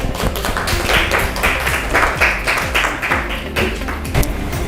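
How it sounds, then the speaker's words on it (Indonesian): A classroom group claps for a student team, a close, dense burst of many hands applauding steadily with no talking over it. "Ya, tepuk tangan untuk kelompoknya Bima."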